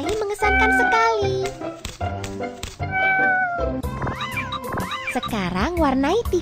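Cartoon kitten meowing in a baby panda coloring video game for kids, a string of loud, bright, drawn-out meows and wavering cries, up close and near-continuous over a few seconds.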